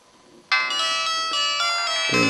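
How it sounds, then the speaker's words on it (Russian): An antique mobile phone with a dead display is switched on and plays its startup tone, a loud bright chiming ring that starts abruptly after a quiet moment and holds steadily, changing pitch near the end, with no talk. "Вот мы включаем телефончик."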